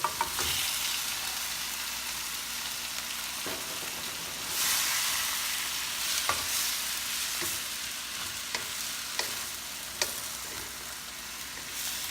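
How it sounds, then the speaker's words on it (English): String beans sautéing with plenty of garlic in a pan, a steady bright sizzle broken by repeated spatula scrapes and clinks, with a louder burst of frying midway and no talking. "saute this for 1 minute"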